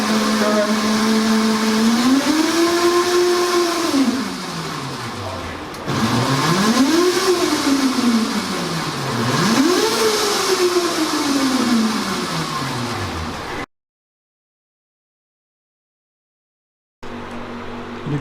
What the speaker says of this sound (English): The grey motor for the HIL setup is connected to the power electronics which is installed in this cabinet.